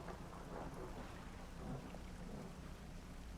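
Storm in the fishing game Dredge, a constant wash of heavy rain with low rumbling thunder, broadband and steady throughout, with no voices.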